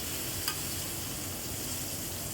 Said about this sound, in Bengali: আমি আবারও খুন্তি দিয়ে ভালো করে শাকটাকে নেড়ে চেড়ে নিচ্ছি, যাতে শাকটা নিচে লেগে পুড়ে না যায়